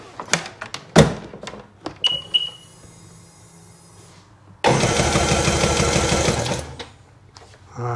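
A 2001 Sea-Doo RXDI personal watercraft that won't run, its engine cranking over with the starter for about two seconds in a fast, rhythmic chugging whir, after some clicks and clunks of handling, with no catch or start.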